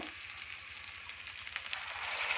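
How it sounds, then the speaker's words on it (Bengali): Onion and capsicum fry in a pan for chilli chicken, a steady close sizzling hiss that runs the whole time and swells slightly toward the end, with no talking. "তো পেঁয়াজ আর ক্যাপসিকাম ভাজা হয়ে গেছে"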